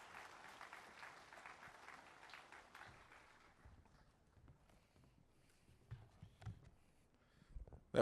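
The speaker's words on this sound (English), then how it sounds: "Let's give Victoria one more round of applause." Applause from a crowd at a Glendale Memorial Day event after a song, fairly distant, clapping steadily then thinning out, followed by scattered thumps and shuffling.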